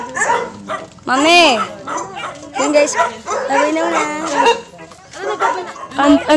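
Several dogs bark and yip at an outdoor spot in Sta. Maria, Bulacan, sharp close barks repeating under and between people talking loudly nearby.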